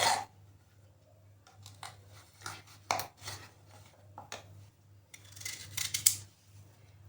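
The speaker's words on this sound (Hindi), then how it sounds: "छीलने के बाद अब हम इनको काट लेंगे इस तरह से स्लाइस में" Peeled raw mangoes being sliced with a knife for chutney, heard as a series of sharp, close cutting clicks and taps at an irregular pace over a low steady hum.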